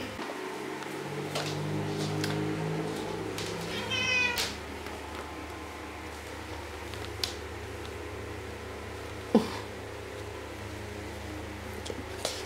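A house cat meows once, fairly close and clear, in a quiet bedroom with a steady low fan-like hum beneath, followed by a few faint scattered clicks and bumps.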